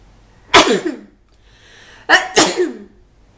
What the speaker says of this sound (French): Pardon, à mes souhaits.